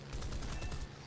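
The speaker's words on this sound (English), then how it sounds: "He's firing at me." Rapid aircraft cannon and machine-gun fire from a Hawker Typhoon Mk 1b dogfight in War Thunder, a dense rattling burst lasting about a second at steady volume over engine drone.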